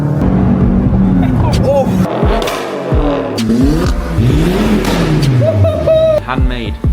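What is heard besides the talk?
Mercedes C43 exhaust with resonator delete revving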